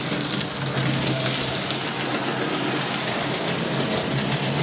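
Steady mechanical rumble and whir of two model trains running on separate powered tracks, continuous and fairly loud with no talking.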